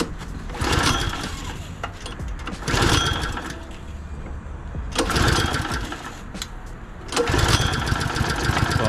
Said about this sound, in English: Oh, what a beautiful sound. Briggs and Stratton, mate.